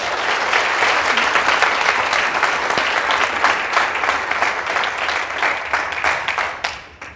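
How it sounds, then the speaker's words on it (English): Sustained applause from the audience at a keynote address during an after-school symposium, dense steady clapping that continues for about seven seconds before tapering slightly at the end. "So a round of applause."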